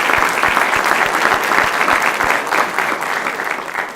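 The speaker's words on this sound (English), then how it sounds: "Just a round of applause for Bruckner Nature Center" Audience applause at a Miami County Foundation spring grants event, a dense, sustained burst of many hands clapping close by that fades slightly toward the end.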